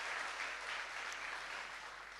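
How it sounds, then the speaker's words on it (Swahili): Audience applause for a panelist at a public forum on patriotism and national cohesion in Kibra, Nairobi: steady, dense clapping from a crowd sustained for about two seconds. "Tumpigie makofi naye pia."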